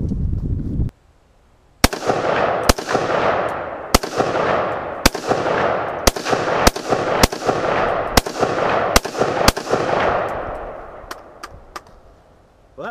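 An AR-15 rifle fires about a dozen loud, sharp shots outdoors at an irregular, fairly quick pace, each crack trailing a long echoing decay, with no talking.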